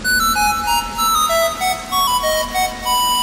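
A melodic electronic phone ringtone plays a repeating sequence of bright tones, steady and fairly loud, with no talking.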